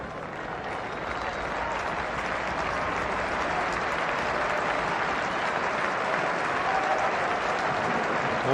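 Warm, sustained applause from the crowd at a 1994 English league football match between Southampton and Norwich City, a steady dense wash of clapping across the stadium with no clear voices on top.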